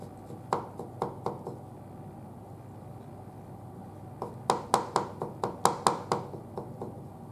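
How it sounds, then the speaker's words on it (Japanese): A kitchen knife finely chops lightly squeezed spinach on a cutting board, giving two runs of quick, quiet rhythmic taps separated by a pause. "軽く水気を絞ったほうれん草は包丁で細かく刻みます。"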